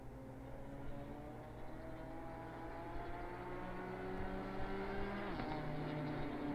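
BMW M4 GT4 race car in Assetto Corsa Competizione at Barcelona, a steady engine drone with rising harmonic pitch as it accelerates, a sharp shift near the end, then continued revving, fairly faint and with no talk.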